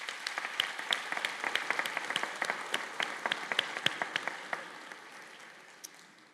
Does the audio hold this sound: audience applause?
yes